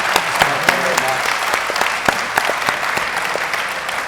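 An afternoon session audience applauds its panelists in a steady round of clapping, with a few sharp individual claps standing out and faint voices underneath.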